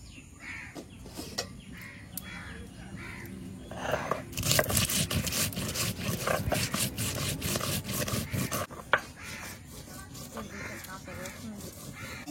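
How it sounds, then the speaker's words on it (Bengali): Cumin and chili being ground by hand on a flat grinding stone, a steady rhythmic rubbing and scraping that grows louder and coarser midway, with faint talk and background sounds around it. "এবার জিরে মরিচটা বেটে নেবো।"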